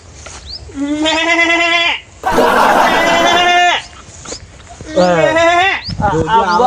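A man imitates a goat's bleat with his voice, giving several wavering, nasal bleats in bursts, with a louder harsh shout between them and talk mixed in, in a rural farm comedy scene.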